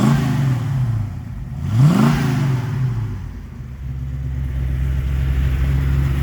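A 1965 Ford Mustang coupe's 289 C-code V8 idles with a deep, steady rumble close by, then is revved once, climbing quickly and falling back to idle.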